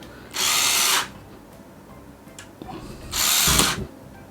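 A power drill driving screws while mounting a smart light switch whirs in two short bursts about two seconds apart, close up, with quiet handling clatter between them.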